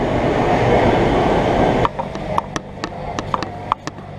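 A BTS Skytrain rushes past at Phrom Phong station in Bangkok with a loud whoosh, then drops to sharp, rhythmic wheel clacks and metallic ticks as it moves along the elevated track.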